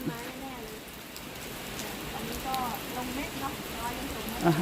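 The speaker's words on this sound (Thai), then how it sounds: "มีฝนตกเล็กน้อยนะฮะ ไม่รู้มันจะตกนานแค่ไหนอะนะ" Light rain falls steadily outdoors near a rice field in Thailand, a soft continuous patter beneath someone talking.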